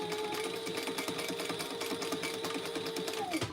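A sewing machine runs fast across the zipper tape of a thin lamb-leather phone pouch, a steady buzzing clatter of needle strokes held for several seconds before winding down abruptly at the end.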